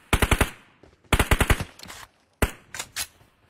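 Gunshots from an AWM sniper rifle in the PUBG Mobile video game, heard as three separate clusters of loud, sharp cracks in quick succession, each followed by a brief fading tail.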